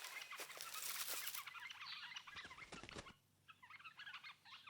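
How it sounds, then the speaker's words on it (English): Guinea fowl calling in the wild, a harsh, raspy run of clucking and cackling calls that carries on through the clip at moderate distance, with no talk. "For an ungainly-looking bird, guinea fowl are notoriously hard for predators to snag."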